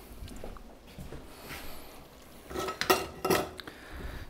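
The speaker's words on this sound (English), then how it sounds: "I'm gonna grab our bowl." A bowl being grabbed in a kitchen, with ceramic dishes and cutlery clinking in a few sharp, close clatters after quieter handling noises.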